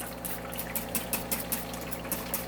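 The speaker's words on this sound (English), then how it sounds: "And I'll hit that with distilled water." Distilled water sprayed over a zinc-plated carburetor linkage part after a muriatic acid etch, quiet liquid splashing with a rhythmic series of short spurts and drips.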